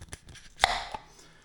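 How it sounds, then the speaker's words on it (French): A jar lid popping as it seals after sterilization in a kitchen, heard as one sharp, faint click followed by a softer tick, against quiet room tone. "Ça, c'est le bruit de la stérilisation."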